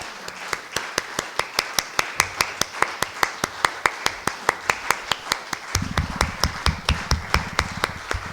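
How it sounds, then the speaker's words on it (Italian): Audience applause in a concert hall for the women performers at a contemporary music concert, a steady run of sharp, evenly spaced claps from a small crowd, with a low murmur underneath. "Chiamerei tutte le ragazze in sala per prendere i meritati applausi."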